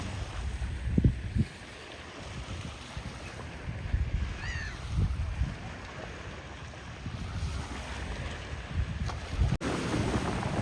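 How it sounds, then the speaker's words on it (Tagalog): Sea waves wash and break along the shore on an Abu Dhabi waterfront, a steady surf roar mixed with wind buffeting the microphone, with a few louder thumps near the start and no talk. "Rinig niyo yung hampas ng alon."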